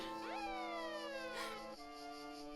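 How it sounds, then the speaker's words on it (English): Faint wailing police sirens in a video game sweep up and down in pitch, several overlapping tones sounding at a distance. "I hear many sirens approaching the motel."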